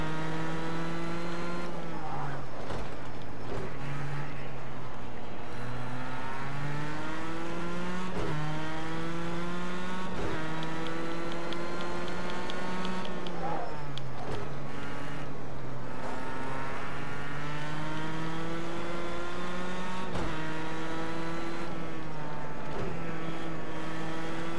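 A Formula One car engine screams in a PS4 racing game, rising and falling through repeated high-pitched revs and gear shifts over about twenty-five seconds, loud and alone with no talk.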